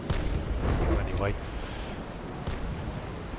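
Booming ship cannon fire in the Naval Action naval combat game, a loud burst of heavy shots early on that rolls into a rumbling decay, with a fainter later report.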